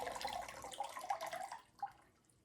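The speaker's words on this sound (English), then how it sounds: "I'm going to add the water from the jar." Water from a jar poured over about 20 grams of salt for a pepper-and-tomato ferment brine, a short trickling splash that tapers off with a last small slosh; no speech.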